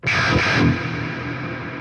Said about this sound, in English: do like a little bit of reverb, and you get the hell tone